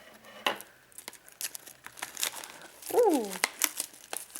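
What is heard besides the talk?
scissors cutting plastic wrap of a Pokémon booster display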